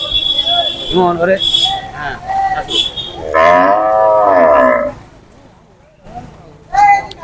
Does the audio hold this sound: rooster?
no